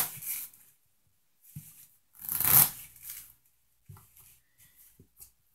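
A deck of playing cards is shuffled and cut by hand during a card trick, heard as several separate riffles and soft flutters with brief quiet gaps between them, close and clear, with no talking.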